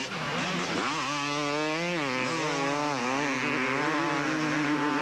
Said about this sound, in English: he is being reined in by Voland in third place on the number 3 machine